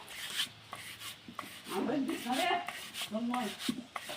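Ingredients being chopped by hand for Bengali pitha at home: soft irregular knife taps and scraping on a board, fairly quiet and close, with a voice talking intermittently over the cutting.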